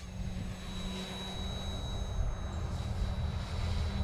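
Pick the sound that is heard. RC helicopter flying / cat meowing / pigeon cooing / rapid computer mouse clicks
RC helicopter flying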